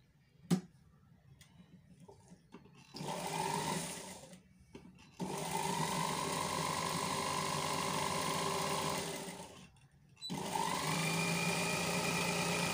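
A sewing machine stitching the side seam of an airline-style frock, a brief tick and short bursts, then two long steady whirring runs separated by a short pause, close and clear, with no talk.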